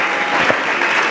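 A church congregation claps loudly and continuously, a dense wash of applause filling the whole short moment.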